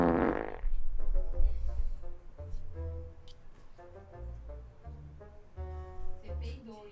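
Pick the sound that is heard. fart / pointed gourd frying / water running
fart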